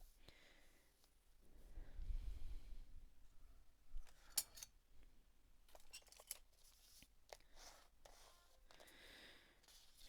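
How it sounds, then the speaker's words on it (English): Sheets of paper for zine pages being folded in half and creased, giving soft, close crinkles and scattered brushing rustles at low volume in a quiet room. "I'm going to start by folding my zine pages. So we want to fold it in half."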